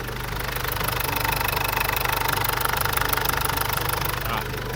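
A Ford Ranger diesel engine idles steadily with a rapid, even knocking clatter, close and loud, with no hissing or puffing breaks from the repaired injector leak.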